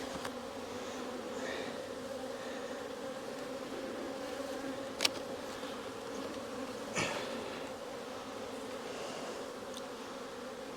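Honey bees from a cell builder hive hum steadily around the open frames as the frames are handled, a close, continuous buzz with a couple of brief clicks.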